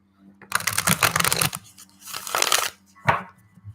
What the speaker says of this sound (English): Robert asked for the soft shuffle sounds